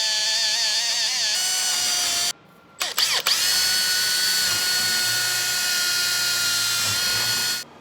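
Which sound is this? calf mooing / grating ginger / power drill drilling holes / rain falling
power drill drilling holes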